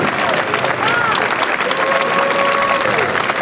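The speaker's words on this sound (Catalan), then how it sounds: "sisplau, agradaria un fort aplaudiment a cadascú d'ells sense moure's del lloc" Crowd at an outdoor pro-independence gathering of elderly Catalans applauds in loud, continuous clapping, with faint cheers and whistles rising through the steady roar.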